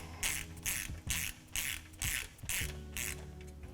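Bolts on a Jeep Dana 44 differential cover are tightened with a ratchet, a close series of about seven rapid clicking bursts in an even rhythm.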